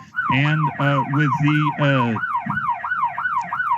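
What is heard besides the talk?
alarm siren sound effect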